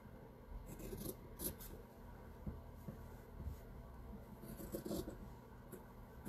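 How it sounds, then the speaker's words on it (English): Scissors snipping through fabric for a picture frame lantern project, a quiet series of close, crisp rasping cuts in an otherwise hushed room. "let's cut some fabric."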